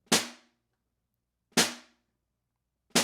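Three sharp drum stick hits just above dead center of the drum, evenly spaced about a second and a half apart, each a crisp attack with a short, quickly damped ring.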